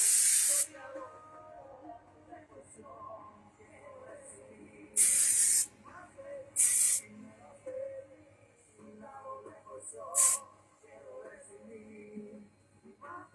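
Hairspray from an aerosol can hissing in several short bursts, one long and a few brief, over quiet room background.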